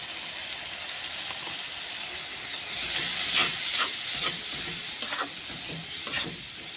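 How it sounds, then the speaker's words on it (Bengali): Spice paste of ginger-garlic, turmeric, chili and salt frying in a pan: a steady hissing sizzle with occasional scraping stir strokes, close and constant throughout. "এখন অনেকক্ষণ নেড়ে চেড়ে মশলাটা ভেজে নেব।"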